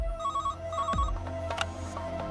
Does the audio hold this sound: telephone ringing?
yes